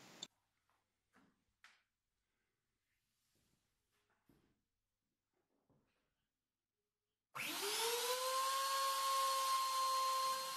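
A power tool spins up to cut wooden bunk bed posts to final length, starting abruptly after quiet scattered workshop taps and then running as a loud, steady high-pitched whine close by.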